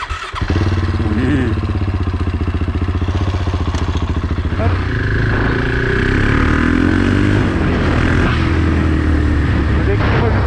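KTM 690 single-cylinder motorcycle cranked by the starter, catching and settling into a loud, close, chugging idle before a few revs rise; people speak French nearby.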